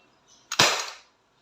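An Umarex Glock 17 Gen 5 airgun pistol fires a single sharp, close crack that decays within half a second against near silence.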